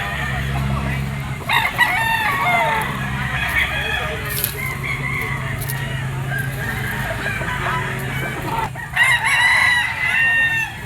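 Yellow-legged gamefowl stag crows at a market amid clucking and other birds, with several loud calls over a busy, noisy background of voices and crowd murmur.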